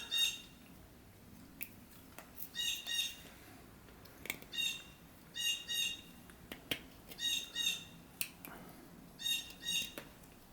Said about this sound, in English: I think that might be a blue jay.